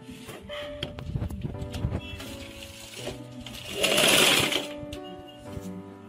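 Sewing machine stitching piping along the edge of a sleeveless umbrella frock, a rapid mechanical chatter running in short close bursts, with a louder whirring burst near the end.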